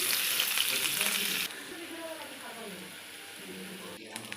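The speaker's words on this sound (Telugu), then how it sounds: "ఫస్ట్గా ఆనియన్స్ వేసుకుంటున్నాం ఆయిల్ వేసుకుని" Onions sizzling and frying in hot oil in a home kitchen pan, a loud bright hiss that drops to a softer crackle partway through, with light stirring and a speaking voice over it.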